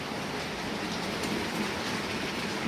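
Heavy rain pours steadily over a house garden in Rajahmundry during a hot-summer storm, a dense, continuous hiss and patter that stays close and even, with no voices.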